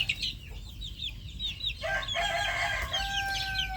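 Rouen ducks calling on a farm, a run of short repeated quacks followed by a longer drawn-out call, moderately close with a faint background hiss and no talking.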